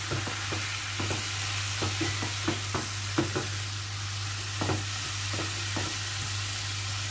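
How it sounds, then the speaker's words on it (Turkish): Onions and mushrooms sauté together in a pan for a chicken dish, with a soft, steady sizzle and a series of light, evenly spaced spatula taps against the pan. "dakika kadar da mantarlarla birlikte kavuracağım."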